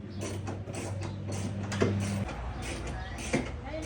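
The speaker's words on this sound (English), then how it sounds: "On these guys, we gotta go ratchet." A ratchet wrench tightens trailer hitch bolts on a 2005-2012 Mercury Mariner, Ford Escape or Mazda Tribute, giving close, quick clicking against a steady low mechanical hum.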